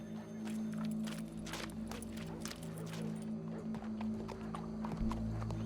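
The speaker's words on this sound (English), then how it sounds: "Go brush that horse, officer." A horse walks with steady, moderately close clip-clopping hooves in the Red Dead Redemption 2 video game, over a low constant hum.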